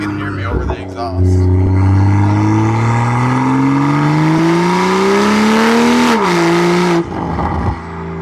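Strong intake and engine roar from a BMW M340i B58 under acceleration, rising in a long sweep, dropping at a gear change, then fading as the car eases off, with a voice speaking over the loud engine.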